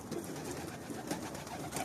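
Pigeons feeding, cooing softly in a steady low murmur, with light rustling around them and no voices.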